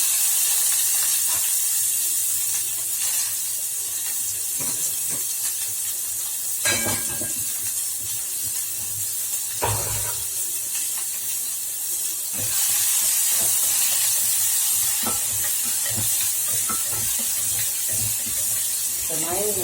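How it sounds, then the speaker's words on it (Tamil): Urad dal, cumin and onion frying in hot oil in a pan, a steady loud hiss and sizzle throughout with a few clattering knocks of utensils, close by, no talk. "உளுத்தம் பருப்பு, இந்த சீரகம் போட்டுக்கிறேன். இது வந்து வெங்காயம்,"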